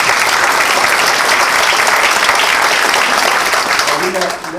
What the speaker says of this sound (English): So that's worthy of applause too.